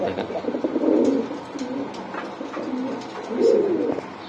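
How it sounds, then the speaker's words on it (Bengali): A pair of pigeons coos in repeated low, throaty rolls, with two swelling bursts standing out, close by. A faint background chatter runs underneath. "খুবই সুন্দর এই"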